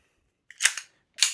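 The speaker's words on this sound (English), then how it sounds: "But we can see if this is going to fire." Two sharp gas pops from an EMG Strike Industries P365 airsoft pistol with a replaced nozzle spring, the first a quick double crack, the second a single shot about half a second later, close and clear with no talk.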